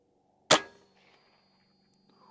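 A single sharp crack from a Karma Red Panda air rifle fired at a 100-yard target, close and loud, decaying quickly into quiet, followed by a faint metallic ring.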